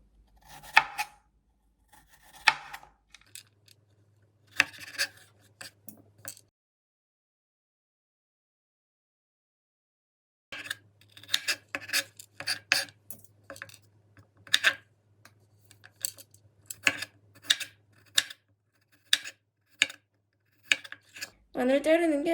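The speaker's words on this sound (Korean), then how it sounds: "마늘 자르는 게 제일 손이 많이 가긴 해요." A knife slicing garlic on a cutting board in a kitchen, quick irregular tapping cuts in bursts separated by a long pause, close and crisp.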